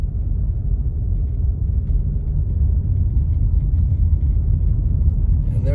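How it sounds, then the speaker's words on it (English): A car rolls through slow town traffic in stormy Big Bear, California, its low, steady engine and road rumble heard from inside the vehicle, even and unbroken throughout. "there is so much traffic in town, you guys"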